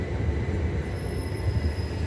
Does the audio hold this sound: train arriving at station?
yes